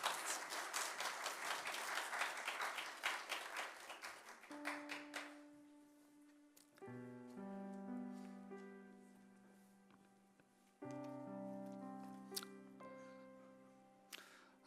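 A church congregation at an ordination service gives welcoming applause, with loud dense clapping for about four seconds that fades out, after which sustained tonal music with held notes takes over.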